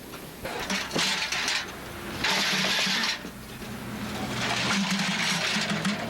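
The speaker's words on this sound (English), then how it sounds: "After gassing up his machine and firing it up, Marty is in business." A leaf blower engine is started outdoors with a rope pull: bursts of rough mechanical rasping and sputtering come in waves, then a steadier running drone, moderately loud and without talk.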